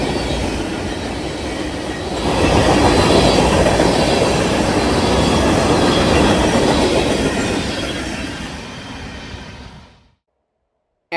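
A very short CSX mixed freight train passes nearby, a steady loud rumble of wheels and rail noise with squealing that builds, holds for several seconds, then cuts off.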